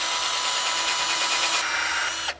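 A hand drill boring a hole through a wooden bow, a continuous loud, gritty whirring and grinding close by that cuts off abruptly as the bit breaks through.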